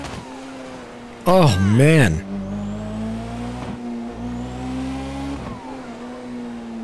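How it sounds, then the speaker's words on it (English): A turbocharged Nissan Skyline R34 GTR-style sports car (Elegy RH7) in GTA 5 idles with a throaty rumble, briefly revving hard with a wavering roar and exhaust backfires; a voice speaks briefly. "The exhaust sounds amazing,"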